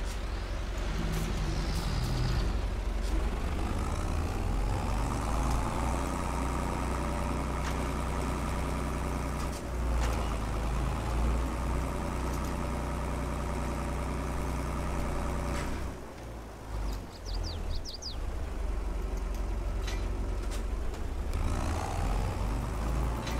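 Tractor engine running in Farming Simulator 22, a steady mid-pitched engine drone with a short dip and rough fluctuation near the end.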